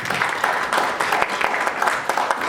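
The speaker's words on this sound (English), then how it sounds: "Another round of applause, please." Audience at a political summit claps in a steady, dense round of applause, many hands close together filling the space without pause.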